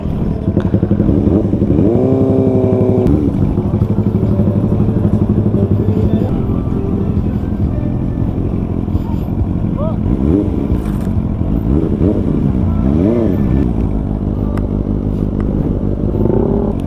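Loud, steady motorcycle engine droning up close with shifting pitch and rattling, while people talk intermittently over it.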